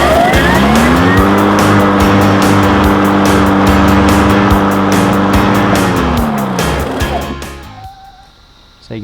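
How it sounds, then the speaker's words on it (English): An EGO battery-powered tool's motor spins up into a loud, steady whine with layered harmonic tones, holds for several seconds, then winds down and fades to near quiet. "I'll start the motor and see if that lights up as it's driving or as the motor's on"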